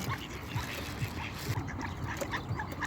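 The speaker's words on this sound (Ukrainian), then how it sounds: "А селезні, які красені, які вони яскраві." Ducks and drakes in a park dendrarium in Odesa give repeated short quacks, near and moderately loud, over a noisy outdoor background with a faint voice.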